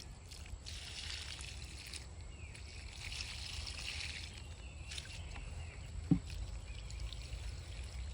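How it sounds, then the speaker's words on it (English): Water poured from a container onto freshly planted lemongrass in a garden, a soft continuous trickle and splash over faint outdoor background, with one brief sharper knock near the end. "So right now I'm just gonna water it in real good."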